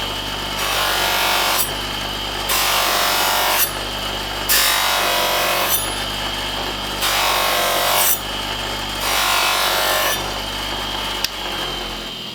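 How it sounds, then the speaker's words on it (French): A cotton buffing disc whirs against a leatherworking knife blade, polishing off abrasive paste and the burr in repeated passes, each stroke a loud broadband rasp lasting about a second, separated by quieter spinning. "je vais me servir du côté disque en coton pour retirer cette pâte abrasive et en plus retirer le morphile"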